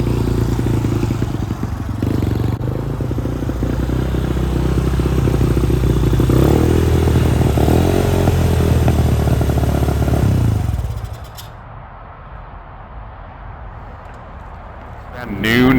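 A Honda NSF100 motorcycle, just brought back from extended storage after a carburetor cleaning, runs close by with a loud, rough, clattering engine drone for about ten seconds, then drops to a quieter idle.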